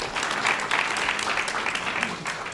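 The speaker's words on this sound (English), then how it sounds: "please give him a round of applause" Audience applause at a community meeting about a new entertainment and sports arena, a steady wash of many hands clapping throughout with some voices mixed in.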